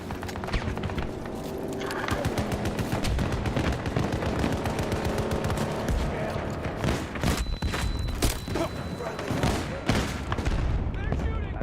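Sniper and automatic gunfire in a military video game, dense bursts of shots and sharp cracks over a constant roar of battle, with voices talking amid the firing.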